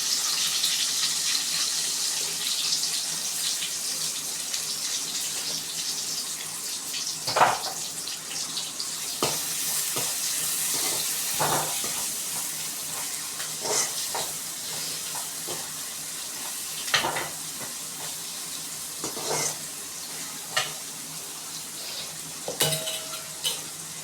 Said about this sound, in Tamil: இப்போ பாருங்கள், எண்ணெயில் கட் பண்ணி வச்சுருக்க வெங்காயத்தை போடுறோம்.